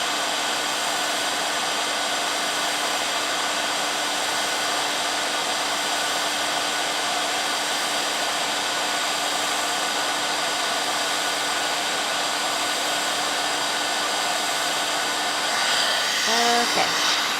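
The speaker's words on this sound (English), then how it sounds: "Let my heat tool warm up just a little bit." A heat tool warming up to melt embossing powder on a stenciled flower holiday card gives a steady, loud hot-air blowing roar with a constant hum, running unbroken throughout, with a brief faint rustle near the end.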